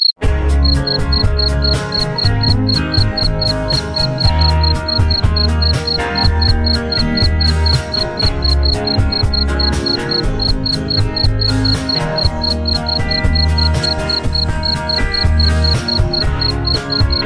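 Crickets chirping at a cricket breeding farm, a dense, continuous, evenly pulsing high trill with steady loudness throughout and no talk, over a low rumble.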